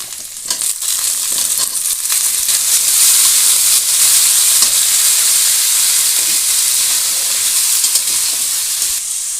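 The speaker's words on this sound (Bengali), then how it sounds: "এবার আলুটা দিয়ে দিচ্ছি" Potatoes added to frying onions in hot oil for a bottle-gourd dish give a loud, sustained hissing sizzle, close up and continuous, with faint stirring scrapes at the start.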